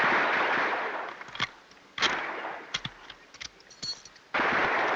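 Rifle shots fired at a target, a handful of sharp, loud cracks spaced irregularly over a steady hiss of background noise.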